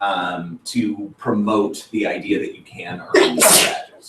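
One loud, sharp sneeze bursts out near the end of a meeting, right after steady close-up talking.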